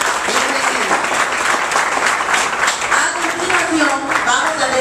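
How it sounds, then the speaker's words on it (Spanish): A crowd at a carnival troupe assembly in Santo Domingo Este gives sustained applause, with loud, continuous clapping throughout and voices heard over it. "Fuerte el aplauso."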